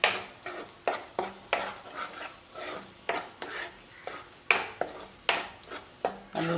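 Malai chicken handi mixture is stirred in a pot over high gas flame. A utensil scrapes and knocks against the pot in quick, rhythmic strokes over a soft sizzle, close up and with no talking.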